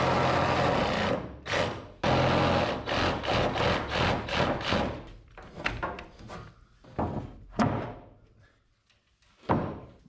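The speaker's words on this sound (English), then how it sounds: "We got to notch her wood." A wooden board is being notched for the flatbed of a 1963 Loadstar truck. Loud, close bursts of rhythmic cutting strokes are followed by scattered knocks and scraping as the wood is handled.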